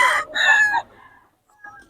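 A gamecock stag of Boston and Gilmore bloodline crows up close, one loud harsh call broken by a short gap and then a long sustained crow, followed by a faint distant crow.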